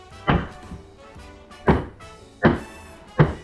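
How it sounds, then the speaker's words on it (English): A metal baking pan of strawberry lemon French macarons banged hard on a counter four times, each a loud ringing clank with uneven gaps between strikes. "You just grab your pan, right? And you bang the silly snot out of it."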